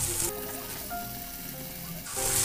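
Fried potatoes drop into hot spice mix in a pan for Bengali aloo dum, a bright hiss and sizzle swelling at the start and end of a short stretch of steady frying.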